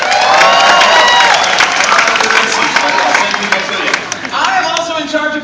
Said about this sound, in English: You'll have to applaud a lot for Jerry.